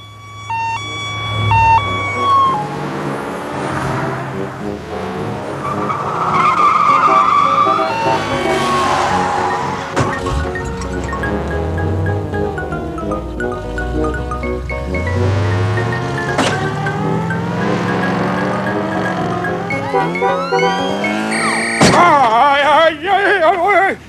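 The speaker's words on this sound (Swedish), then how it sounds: "Vilken trafik." Busy city street traffic with cars passing, dominated by a loud siren and horn-like tones over engine rumble and shifting whooshes, with brief voices at times.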